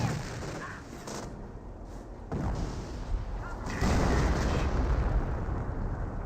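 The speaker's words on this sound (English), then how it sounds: "We got another M2 barrage this time, trying to hit those Stu's" Mortar barrage from M2 mortars in Company of Heroes, a dense run of booming explosions that rolls on steadily and grows louder toward the end.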